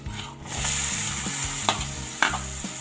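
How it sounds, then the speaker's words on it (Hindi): Chopped onion frying in hot butter in a pan for veg cheese pasta, a steady close sizzle with stirring scrapes and a couple of sharp utensil clicks throughout. "हल्का सा भून लेते हैं।"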